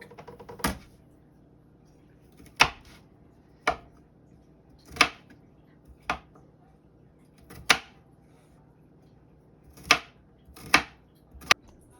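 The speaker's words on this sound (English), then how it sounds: "Now we are mincing 1 tablespoon of garlic" A knife mincing garlic on a cutting board for soup, with sharp isolated chops spaced a second or two apart, loud and close against a quiet background, nine or ten distinct strikes.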